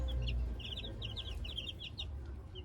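Young late-hatched chickens make rapid high peeps and soft clucks close by over a low rumble, in short repeated bursts that run through the whole stretch.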